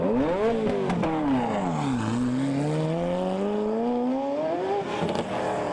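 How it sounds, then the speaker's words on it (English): A Mercedes CLS engine revs repeatedly with no talk: pitch climbs, dips and climbs again in long loud sweeps, a close, continuous roar that rises and falls through the whole stretch. "Rev it up."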